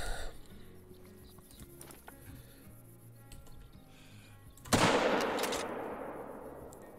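.223 rifle fired in a hunting video game: quiet ambient sound with faint ticks, then a single loud, close gunshot whose echo trails off slowly.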